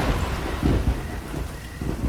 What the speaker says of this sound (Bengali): উফ, আবার বৃষ্টি নামলো।